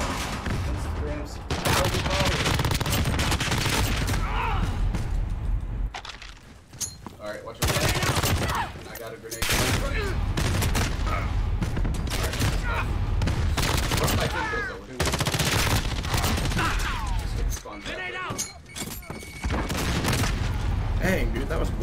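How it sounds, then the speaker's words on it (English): Shotgun blasts and other gunfire in Call of Duty: Modern Warfare: loud, dense bursts of shots repeating through the whole stretch with short gaps, while voices talk underneath. "That'd be a shotgun."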